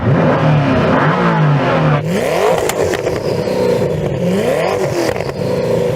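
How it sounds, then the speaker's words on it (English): A powerful Koenigsegg Agera RST V8 engine revs hard, pitch sweeping up and down in repeated surges, loud and close with crackling exhaust. "So Marcus, can you rev up the Agera, please?"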